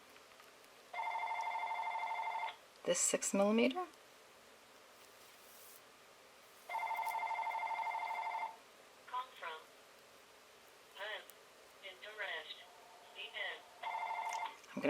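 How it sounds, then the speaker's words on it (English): Indoors, a telephone rings in two long repeated bursts and then an answering machine plays, while a person talks quietly in between. "Sorry about the phone and my my answering machine."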